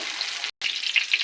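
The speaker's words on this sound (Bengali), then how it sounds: "পেঁয়াজ কুচিটা একটু ভাজবো, ভেজে দিয়ে দেবো আলু।" Chopped onion sizzles in hot oil in a pan, a close crackling hiss cut by a brief gap of silence midway before resuming.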